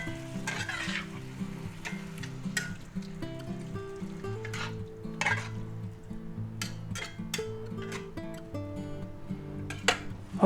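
A soy sauce mixture being stirred into spaghetti sauce in a frying pan, with a soft continuous sizzle and repeated light scraping and clinks of the utensil against the pan, fairly quiet and close.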